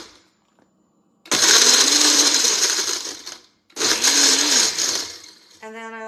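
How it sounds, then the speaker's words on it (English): A blender roars twice in loud bursts with a brief pause between, grinding and rattling as if crushing ice, followed by a short electronic beep. "Our blender is on, and I like to put it on ice"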